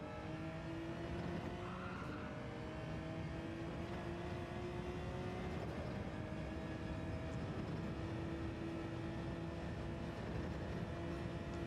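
Race car in a video game accelerating at full throttle on the Nurburgring, a loud, steady engine drone with sustained rising tones, continuous and close, with no voices.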